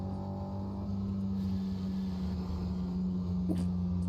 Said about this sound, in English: at higher revs, if you downshift without the clutch, it won't like it